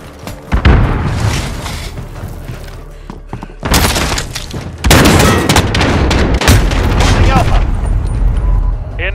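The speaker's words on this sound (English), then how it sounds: "Airstrike incoming, beware." Airstrike explosions in the Call of Duty Modern Warfare video game boom heavily and close, building into a continuous rumbling barrage with crackling debris and gunfire.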